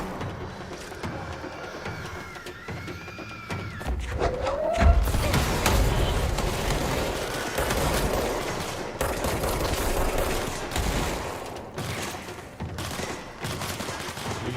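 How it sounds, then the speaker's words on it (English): Sustained gunfire in the game Control, a long stretch of dense rattling shots and impacts, loud and close, with sharp cracks near the start and heavy noisy bursts continuing to the end. "What are you shooting at?"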